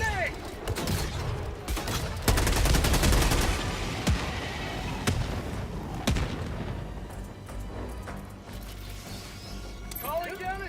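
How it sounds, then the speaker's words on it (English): A grenade detonates in the Helldivers video game amid rapid gunfire and mechanical clatter, with booming blasts and dense firing throughout while players shout over the action. "Throwing grenade!"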